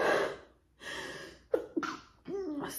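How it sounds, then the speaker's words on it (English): Repeated sneezes brought on by spicy seasonings on food, several close, sharp bursts with gasping breaths in between and no words spoken. "I feel like these seasonings on here are having me sneeze so much"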